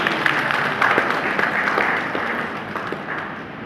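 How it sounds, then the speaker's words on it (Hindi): An audience at a speech during an LDP program at Jim Corbett claps in a steady patter that swells early and slowly fades, with no talk over it. "तालियां होनी चाहिए।"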